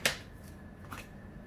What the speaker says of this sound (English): Let me continue to shuffle to get more information.